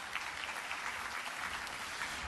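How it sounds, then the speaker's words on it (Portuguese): Audience at a panel talk on the role of the press in confronting violence against women applauds the journalist speakers: a dense, even patter of many hands clapping, moderately distant and steady throughout. "Eles que recebem os nossos aplausos, o nosso agradecimento à presença"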